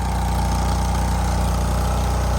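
A lawn mower engine running steadily nearby in a yard, a loud continuous droning idle with a rapid regular low pulse and a persistent mid-pitched whine, with no talk.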